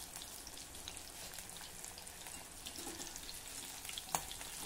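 Sweet corn bhaji frying in hot oil over a gas flame makes a continuous, even crackling sizzle with fine popping throughout and one slightly sharper pop near the end. It is close and alone, with no talk.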